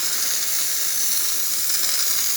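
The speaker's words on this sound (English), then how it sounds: "That steady steam coming out from the one." Steady, even hiss of steam venting from a Jura coffee machine during a tune-up check, a continuous close airy rush with no breaks and no voices over it.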